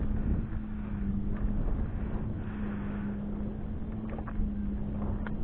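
Steady wind noise buffets the microphone on a boat during a fishing trip, a continuous loud rumble with a faint low motor-like hum running throughout and no talking.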